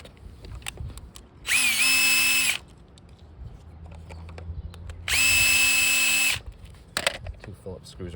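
Power drill backing Phillips screws out of an umbrella light adapter, two loud whirring bursts of about a second each, separated by quiet handling and low talk.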